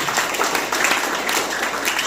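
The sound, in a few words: congregation applause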